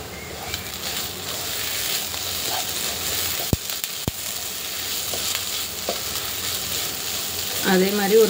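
Prawn masala frying in a pan with curry leaves, a steady close sizzle running throughout with scraping stir strokes and a couple of sharp clacks, no talk.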